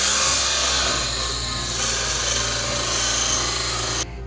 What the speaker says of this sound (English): we kind of have to sand down everything around it